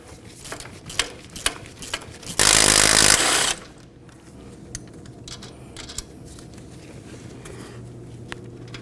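A power tool drives out the front wheel hub mounting bolts on a 2013–2019 Nissan Sentra in one loud, close, roughly one-second rattling burst, set between quieter workshop clatter.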